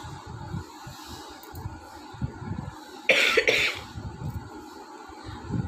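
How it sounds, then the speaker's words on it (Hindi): A person coughing indoors during a change of weather, a short burst of loud, harsh coughs near the middle standing out from quieter background sounds and faint movement. "मुझे इतनी ज़्यादा खांसी हो रही है"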